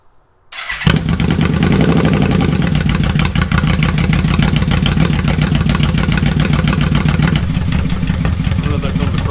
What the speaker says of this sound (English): Then we'll pull the choke out for the first few minutes and then we'll just let it idle.